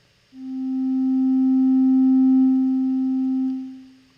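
A single pure synthesizer tone swells in slowly, holds at full volume for a moment, then fades out.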